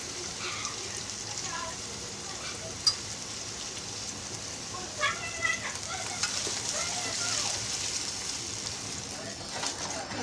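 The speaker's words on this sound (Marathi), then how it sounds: "मस्त तेल सुटेपर्यंत भाजू देऊ मस्त छानपैकी." Chicken masala with garam masala and red chilli powder frying in oil in a pan, giving a steady soft sizzle with occasional stirring clinks throughout.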